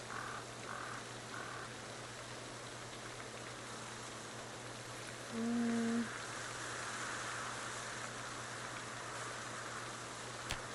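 Steady rain falling in the zombie survival game Project Zomboid, a constant soft hiss with a few faint croaks and a brief tone in the middle, no talking.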